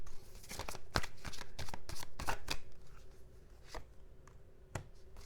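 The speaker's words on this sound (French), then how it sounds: "je vais juste mettre quelques cartes du tarot" A deck of tarot cards is shuffled up close, giving dense, papery riffling and flicking in quick repeated bursts that grow sparser toward the end. No one speaks.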